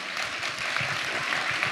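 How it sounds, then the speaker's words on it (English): At a school house masquerade event, an audience claps in a continuous, fairly soft and even stream that sits at a constant level throughout, with a faint murmur beneath. "let's give a round of applause to her"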